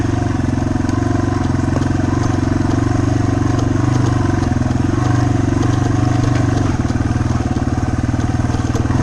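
A Yamaha TW200 motorcycle rolls over rocks and roots at a slow cruise. Its engine hums steadily and loudly for the whole stretch, with clattering bumps from the suspension and chassis scattered through it.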